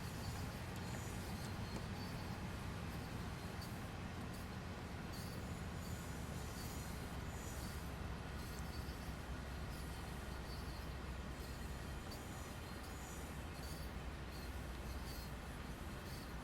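A freight train with a C40-8W locomotive hauling coal in Train Sim World 2 rolls steadily at low speed out of a siding, giving a continuous rumbling roll with wheel and rail noise throughout and no talk.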